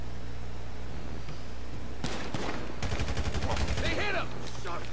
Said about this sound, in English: They hit him! Shot fired!